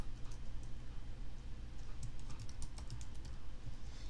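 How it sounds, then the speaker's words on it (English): Steady rapid key clicks from someone typing on a computer keyboard while setting up an account, irregular taps running continuously at close range with no talking. "Then I'm going to type in Sloodle and Alchemy."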